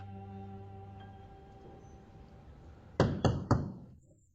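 Three sharp knocks strike a door in quick succession, loud and close, following a quiet stretch of low background hum.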